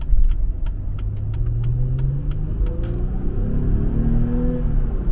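A Mercedes-Benz car's engine climbs smoothly toward about 5,000 rpm, a rising rumbling drone heard from inside the cabin, with a few light clicks early on.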